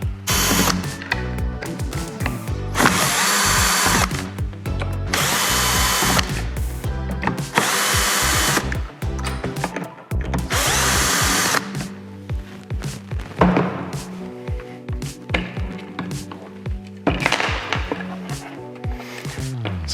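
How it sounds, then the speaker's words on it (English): Cordless drill driver backing out screws from a commercial valve during servicing, several loud whirring bursts of spinning and stopping with tool clatter and thuds between runs, close up and with no talk. "I'm going to save a little bit of time and use a drill driver."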